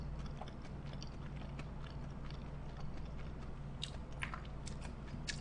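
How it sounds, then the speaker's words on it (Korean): Close, soft wet chewing and biting of sushi, hire katsu and udon, a steady run of small crunchy bites over a low hum, with no talking. "많이 씹어 먹으면 되겠지"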